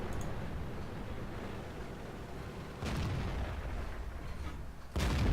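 A tank cannon fires at an E50 in the World of Tanks video game, with two heavy booming shots a few seconds apart over a low rumbling battlefield background.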